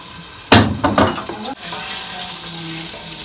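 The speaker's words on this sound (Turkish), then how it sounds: "Bir de yağımın üstüne biraz da sıvı yağ aktaracağım." Liquid oil poured over fat in a hot pan for frying, a brief splashy pour with gurgling bursts, then a steady close sizzle that settles into a continuous frying hiss.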